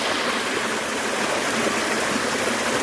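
Steady, loud rush of water flowing in a forest stream, a continuous broadband wash with no breaks and no voices.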